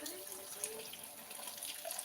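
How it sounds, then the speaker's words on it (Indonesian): Water runs steadily and faintly from a hose or tap during garden watering, a continuous hissing splash with no break. "Selesai kusiram ini."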